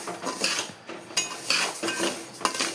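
Half a litre of jowar (sorghum) grain dry roasting in a metal pan, stirred with a spoon that scrapes and clinks against the pan in irregular bursts, close and moderately loud with a faint rustle of grains between strokes.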